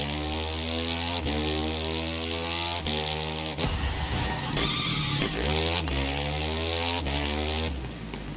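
A KTM motorbike engine in GTA 5 drones at a steady high pitch, with repeated rev changes and brief dips, loud and close, and no talk.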